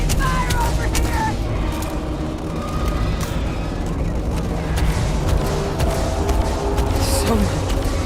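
Gunfire and explosive booms fill a firefight in the video game Starfield, dense and continuous with sharp shots over a rumbling, loud backdrop.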